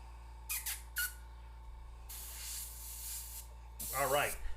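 An airbrush sprays paint in soft hissing bursts: two quick puffs, then a longer steady spray over a faint background hum, ending with a louder burst.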